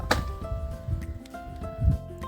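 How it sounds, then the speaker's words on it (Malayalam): Soaked coconut husk sliced into chips with a blade: a few separate, fairly close chopping thuds with a fibrous crunch, roughly one strike a second, under a steady background tone. "നല്ലവണ്ണം കുതിർന്നാൽ ഇതേപോലെ കട്ട് ചെയ്തെടുക്കാൻ കഴിയും."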